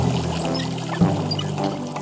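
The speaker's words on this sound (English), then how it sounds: "Just turn the handle to the left and watch the water squirt." A cartoon kitchen tap gushes water in a steady, continuous pour for about two seconds, with a slight surge midway and no voices over it.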